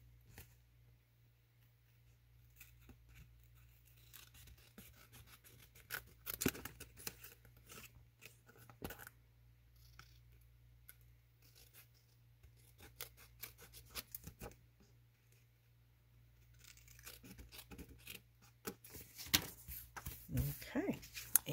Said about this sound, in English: And we'll just cut around there to get rid of the excess.